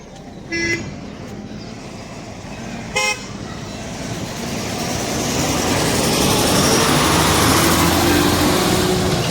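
Two short horn toots sound early over steady road noise, then a state transport bus's engine rumble swells and passes close by.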